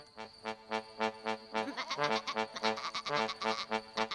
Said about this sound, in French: Le premier concurrent est le mouton Sheila.